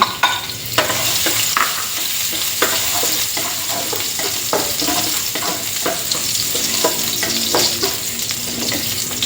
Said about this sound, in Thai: ก่อนอื่นใส่น้ำมันลงไปเยอะใส่ลงไปแล้วบ่พอค่ะ เมนูนี้ต้องน้ำมันเยอะนิดนึงค่ะ ตามด้วยกระเทียมสับ